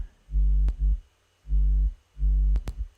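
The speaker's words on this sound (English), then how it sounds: "Then we have the sub, which is just again sub oscillator from Serum." A deep sub-bass tone from a Serum sub oscillator pulses in three sustained bursts, with sharp clicks marking the start and end of notes.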